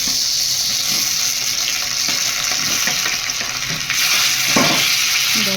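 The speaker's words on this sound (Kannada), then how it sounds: "ನಂತರ ಟೊಮೊಟೊ ಹಾಕ್ಕೊತಾ ಇದ್ದೀನಿ ಇದು ಸಾಫ್ಟ್ ಆಗೋವರೆಗೂ ಸ್ವಲ್ಪ ಎಣ್ಣೆ ಒಳಗೇ ಫ್ರೈ ಮಾಡ್ಕೊಬೇಕು" Tomatoes fry in a spoonful of oil in a pan for idli sambar, a loud continuous sizzle close by with repeated spatula stirring and scraping throughout, no one talking.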